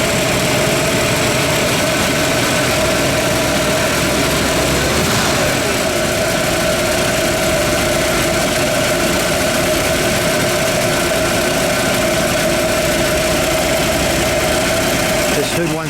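A 1957 Cadillac Eldorado Biarritz Convertible idles close by, its V8 giving a loud, steady, even rumble with a faint ticking that holds unchanged throughout, with no voices over it.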